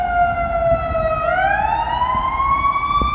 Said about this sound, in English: Oh, it's a fire truck. So this is a full fire engine.